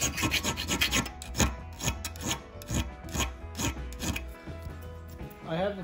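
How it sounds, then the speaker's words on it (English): A small round file deburrs the inside of a steel bicycle fork, making quiet, rhythmic rasping strokes that repeat steadily, roughly two per second, close by. "So I'll take this little round file."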